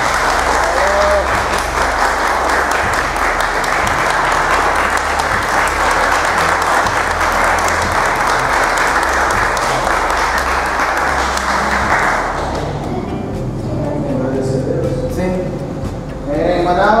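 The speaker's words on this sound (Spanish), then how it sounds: "Un fuerte aplauso a todos." Loud, sustained applause from a crowd at a Luta Livre black belt graduation fills the space for several seconds, then fades out as voices and cheers take over.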